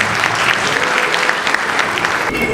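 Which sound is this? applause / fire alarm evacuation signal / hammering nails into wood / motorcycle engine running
applause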